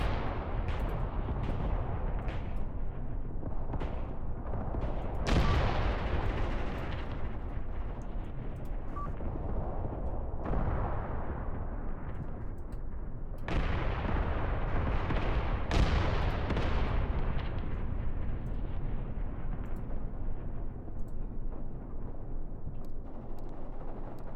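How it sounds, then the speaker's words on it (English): Grenades explode in the video game Graviteam Tactics, a dense run of booming blasts and sharp cracks at irregular intervals over constant rumbling battle noise, some louder and closer, others distant. "Grenades are going off."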